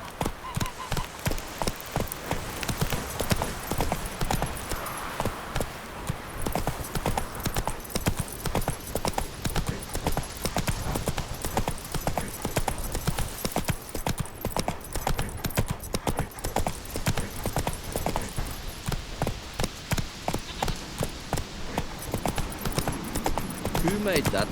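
Roach, the horse in The Witcher 3 on the Death March difficulty, gallops with a fast, regular rhythm of loud hoofbeats that continue throughout, close and prominent, with occasional voices and game chatter over them.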